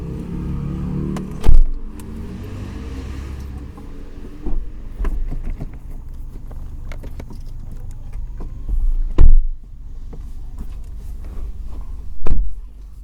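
Ford Focus RS driven on the road, steady engine hum and road rumble from inside the cabin with several sharp thumps and knocks, no talking.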